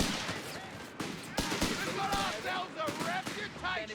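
Gunfire in Company of Heroes 3, an Australian Bren gun section trading shots with German grenadiers, sharp repeated bursts and scattered single shots, moderately distant, under a commentator's continuous talk.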